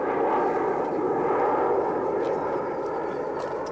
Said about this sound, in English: Boeing 707.